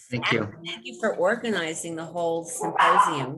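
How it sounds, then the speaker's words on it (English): Jilly, a pet dog at home, barks and yips in short bursts mixed in with a person speaking close by. "that's my dog, Jilly, hearing something that she perceives as her job to go bark at"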